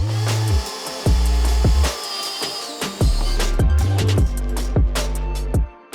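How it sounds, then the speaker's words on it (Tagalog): A cordless power drill bores in repeated bursts, each spin-up whining loudly with a steady drone before cutting off, alternating with short pauses and handling clatter. "Because it is able to drill a lot faster. So let's use the big one for this."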